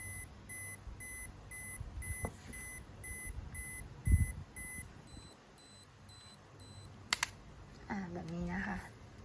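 Olympus XA2 compact film camera running its ten-second self-timer, giving a steady series of short, thin electronic beeps at an even rhythm, with a click near the end and brief talk afterward.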